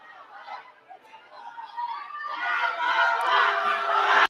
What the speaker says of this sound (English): Man, she's getting booed.